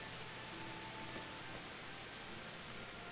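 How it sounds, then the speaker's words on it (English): Steady, dense rain hiss in a video game, an even broadband wash holding at one level throughout with no breaks, while a faint voice occasionally murmurs underneath. "it's raining out there too"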